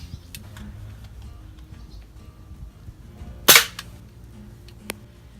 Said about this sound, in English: Next one, it's a little SMK 177 pellet rifle.